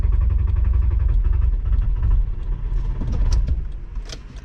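A VW VR5 engine in a Savoy cranks steadily and loudly for several seconds, sputtering and churning as if about to catch but not fully firing, heard close without voices.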